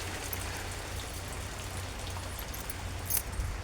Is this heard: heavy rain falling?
yes